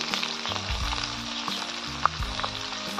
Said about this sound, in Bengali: তারপরে দিয়ে দিচ্ছি পেঁয়াজ